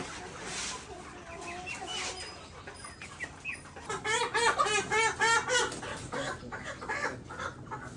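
Layer hens on a poultry farm cluck and cackle in a busy, overlapping chorus, with repeated rhythmic calls fairly close and a steady barn murmur beneath.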